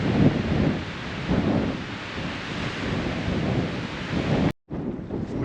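Strong wind sweeps across a campsite in steady loud gusts, roaring and buffeting the microphone, with a brief dropout near the end before the rush resumes.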